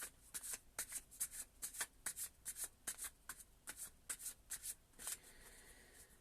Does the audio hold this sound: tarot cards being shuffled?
yes